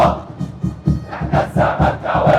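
Football crowd at a Zamalek match against Petrojet roars and chants after a Zamalek goal, loud rhythmic surges of many voices close by, pulsing in repeated bursts.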